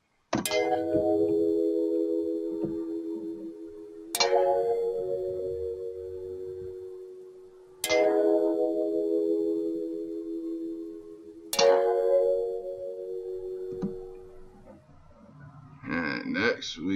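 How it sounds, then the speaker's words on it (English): Stereo bell synth tones strike four times at roughly even intervals, each ringing bright and decaying slowly, with a short burst of other sound at the close. "Next we got the stereo bells."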